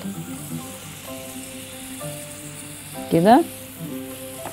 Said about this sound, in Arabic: هننزل الجمبري ياخد الشوية بتاعته الحلوة، ومعاه هحط الايه، الملح والكمون